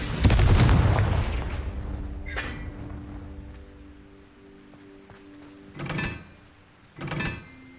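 A Confringo fire spell explosion from Hogwarts Legacy sets off a loud burst at the start, then fades into a lingering tonal hum. Two shorter, quieter blasts follow near the end, with no talking.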